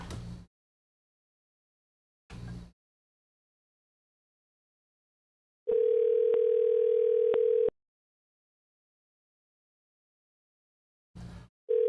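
A steady telephone dial tone sounds for about two seconds, moderately loud, with a brief return at the very end; short bursts of unrelated noise come before it, and no one talks.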